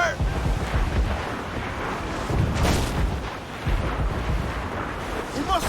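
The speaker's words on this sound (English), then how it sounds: "Incoming fire! Taking some shot, Captain!" Ship cannon fire during a naval battle in the video game Assassin's Creed IV Black Flag: booming blasts land over a constant roar of wind and sea, with shouting crew voices.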